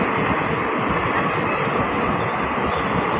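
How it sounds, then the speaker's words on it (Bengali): A long train rolling past a school playground, a loud continuous rumble and roar of wheels and carriages close by, steady throughout with no voices. "দেখো ট্রেন যাচ্ছে কি সুন্দর স্কুল মাঠের সামনে দিয়ে"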